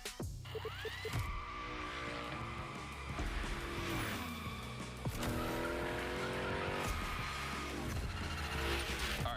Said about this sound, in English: Let's see how you handled your first slides with the unicorn.